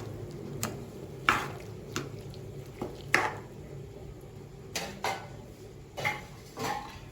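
Onion, cumin, potato, ginger and garlic mixed in a pot for Jaffna-style paruppu sambar, with scattered clinks and scrapes of a spoon against the pot at irregular intervals and a faint background hum.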